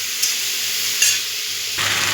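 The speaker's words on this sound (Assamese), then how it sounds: "তাৰপিছত মাছ ধুনীয়াকৈ ভাজি।" Fish pieces frying in a pan, heard close as a loud continuous sizzle with brief hissing spikes, ending in a sharper burst of crackling.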